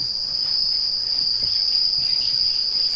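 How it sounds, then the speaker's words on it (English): House crickets on a cricket farm chirping in a continuous, even, high-pitched trill, loud and close with no other sounds. "These are house crickets."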